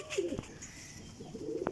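Pigeons coo softly and close by, with a few short throaty calls in quick succession and no talking.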